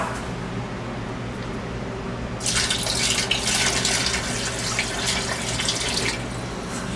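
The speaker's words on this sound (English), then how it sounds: "Need to dump a little bit extra water in there." Water starts pouring into a container partway through, a bright steady splashing stream over a low background hum, then it stops.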